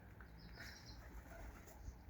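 Soft pigeon cooing outdoors by an apartment block in fine weather, faint and distant, over low background noise with no voices.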